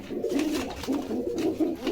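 Pigeons coo in low, throaty rolling bursts, repeating steadily and close by, with no talking.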